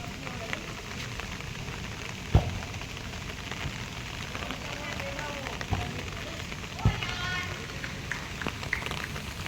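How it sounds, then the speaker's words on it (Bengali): Heavy rain falls outdoors beside a children's playground, a constant broad hiss with a few sharp knocks, as a voice speaks over it. "দেখো বৃষ্টিটা জোরে জোরে জোরেই চলে এলো"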